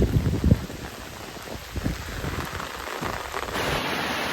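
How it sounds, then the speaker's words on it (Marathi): Steady heavy rain pours down, a dense hiss of drops on surfaces with a few louder low thumps near the start. "एवढो पाऊस लागता"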